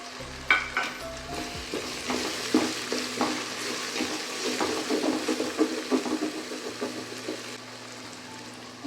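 Green chillies and other ingredients fry in a hot pan while a spoon stirs them, giving a continuous sizzle broken by repeated scraping, clattering strokes, close and fairly loud with no talking.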